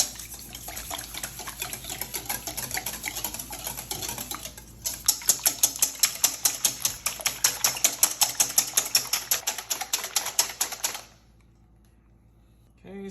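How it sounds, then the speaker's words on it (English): Wire whisk beating a cornstarch mixture with a teaspoon of oil in a bowl, made as a quiche filling: rapid, even clicking strokes that run steadily for about eleven seconds, then stop abruptly. "so give this a good whisk"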